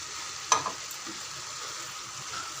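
Grated coconut and peanuts fry in a pan with a steady crackling sizzle, plus a sharp spoon clack early on as they are stirred, close and without talk.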